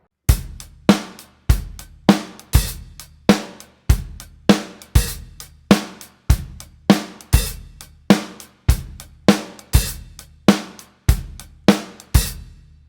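A steady funky drum groove with regular kick and snare hits and crisp hi-hat barks opening and closing between them, played alone at a moderate tempo.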